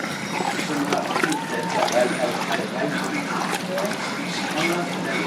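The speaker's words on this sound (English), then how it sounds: "You hear that good slosh?" Goulash being stirred from the inside out in a pot, producing a thick wet sloshing and squelching up close, with a voice talking over the mixing.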